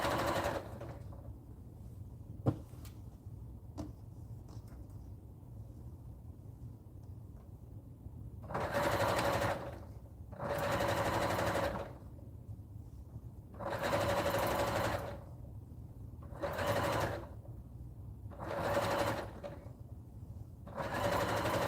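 A sewing machine stitches handmade items for online shop orders in a home workroom, running in six or seven steady bursts of a few seconds each, separated by short pauses, loud and close with no talk over it.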